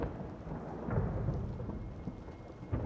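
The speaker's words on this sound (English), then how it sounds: "through the rain and thunder" A thunderstorm: continuous rain hiss with a low, rolling rumble of thunder that swells and fades across the short stretch, steady and moderately loud, with no voices.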